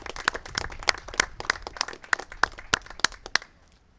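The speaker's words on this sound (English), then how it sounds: "Let's give them a second round of applause." A crowd at a government storm-recovery briefing applauds with sharp, irregular claps that rise and cluster, then thin out and fade to quiet near the end.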